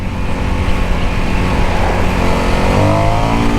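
A 2022 Indian FTR S motorcycle pulls hard in second gear, its engine note climbing steadily in pitch as revs rise, loud and close throughout with continuous wind rush and no talking.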